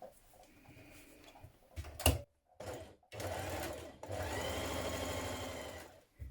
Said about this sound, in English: Now you're going to stitch your uninterfaced sections of your yoke back together at the centre back here.